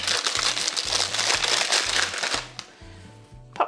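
A plastic piping bag being opened out crinkles loudly and continuously up close for a couple of seconds, then quiets to a few faint rustles and a final crisp crackle.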